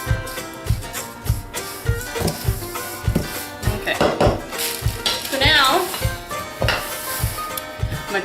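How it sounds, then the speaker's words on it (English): A coconut mixture for Nanaimo bars stirred in a bowl, with steady rhythmic scraping and clinking of a utensil against the bowl, close and fairly loud, plus a brief squeaky scrape midway, with no voices. "then your coconut, put it in the bowl. And you want to give that a stir"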